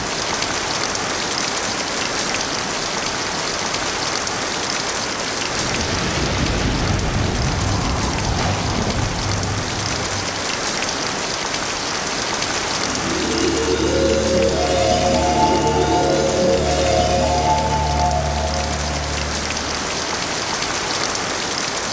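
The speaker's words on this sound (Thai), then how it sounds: "มีฝนตกพรำตลอดเวลา" Light rain drizzles steadily throughout, a dense continuous patter on surfaces, with a low rumbling swell midway and soft tonal accents near the end.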